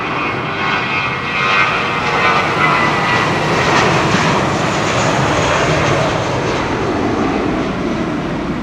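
Airliner at London Heathrow in wet weather, a loud, steady roar of aircraft engines that swells slightly and holds throughout.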